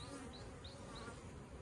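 Honeybees buzz inside an open nuc hive being split, a close, continuous hum of many wings with a few brief higher whines from individual bees passing.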